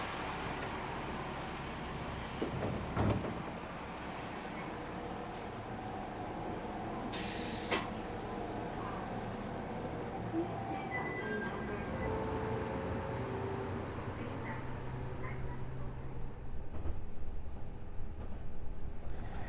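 A Hōjō Railway train in Japan rumbles steadily as it pulls into a station, with a brief sharp hiss of brakes partway through and a constant low roar throughout.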